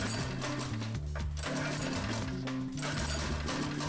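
A Predator 212 go-kart engine that won't idle, with a freshly cleaned carburetor, cranks and sputters as it tries to start, a loud continuous mechanical rattle with uneven low chugging pulses and no voices.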